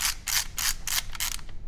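Film advance winding on a Canon Dial 35 camera: five crisp ratcheting bursts in a steady rhythm, close and fairly loud, with no voices.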